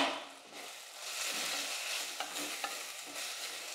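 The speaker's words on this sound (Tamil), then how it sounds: "இப்போ தக்காளி வதங்கிடுச்சா பார்க்கலாம்." Tomatoes and onions being sautéed and stirred in a pan give a soft, steady sizzle with gentle scraping swells and a couple of brief knocks, close by and fairly quiet.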